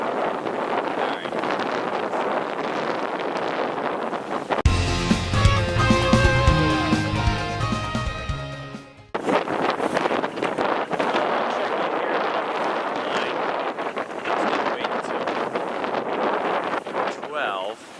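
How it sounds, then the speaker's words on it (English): Wind blowing across a sailboat during a cruise in steadily building breeze, a continuous loud rushing buffet on the microphone throughout, with a brief burst of other noise partway through and talk faintly underneath. "the wind has been slowly picking up, about a knot or so every 20 to 30 minutes"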